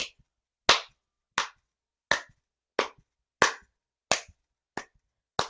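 Hands clapping, eight sharp, isolated claps at a slow, even pace of roughly one every seven-tenths of a second, close and crisp against silence.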